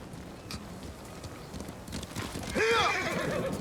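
A horse in the Ghost of Tsushima video game clip-clops along at a walk, then lets out a loud, wavering whinny near the end, with a voice speaking faintly beneath the hoofbeats.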